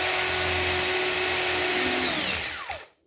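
A power drill whirs steadily while drilling into a diorama, loud and close, then winds down to a stop near the end with a falling pitch.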